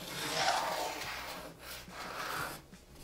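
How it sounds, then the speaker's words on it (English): A pencil drawn along the edge of bathroom trim, a steady soft scratching rub lasting about three seconds, close and faint with no talk. "to describe what I just did, I drew a line, the edge of the trim, all the way around"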